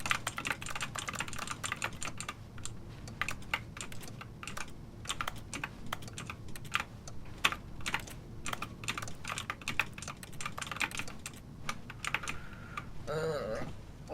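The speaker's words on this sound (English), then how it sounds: "Sounds like the pressing of a keyboard." Rapid keyboard key presses from The Stanley Parable: Ultra Deluxe, a steady clatter of many close, crisp clicks running throughout with a low background hum, ending with a brief different tone.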